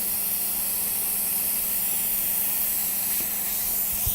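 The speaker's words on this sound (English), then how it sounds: "you can hear the air still coming out" A steady, loud hiss of air escaping from a punctured tire, continuous and close, with a faint low hum underneath.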